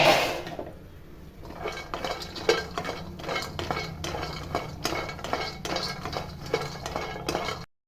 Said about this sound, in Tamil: நம்ம இருக்க நட்ஸ்லாம் வறுத்துக்கலாம். வாங்கம்மா, பாதாம் பருப்பு வறுத்துக்கலாம்.